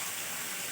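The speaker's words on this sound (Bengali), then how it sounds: "এবার আমি জল ঢেলে দেবো" Water is poured into a pan of potatoes cooked with spices, a steady close splashing gush that fills the short moment.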